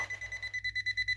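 Electronic beeping from a Klein Super Rod device as it switches on, a rapid series of about a dozen short, even, shrill tones, close and clear with no talking.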